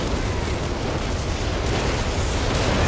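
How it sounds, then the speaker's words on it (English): Artillery shell explosions in the World War II strategy game Company of Heroes 3, a dense, continuous roar of blasts and rumbling booms that fills the whole stretch at loud volume. "Oh, that's a really good whiz-bang."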